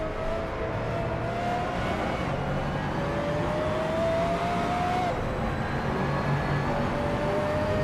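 Race cars from mixed classes, Radicals and Porsche Cup cars, lap a track in the Assetto Corsa racing game, their engines holding a steady loud drone with rising pitch sweeps as they accelerate through the gears, continuous throughout.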